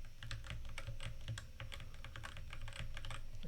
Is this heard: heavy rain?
no